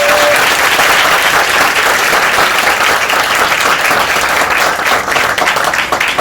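A church congregation breaks into loud, sustained applause for the Lord, dense clapping from many hands filling the room steadily for several seconds.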